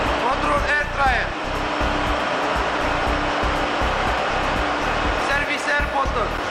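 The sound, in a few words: ship engine room control air dryer running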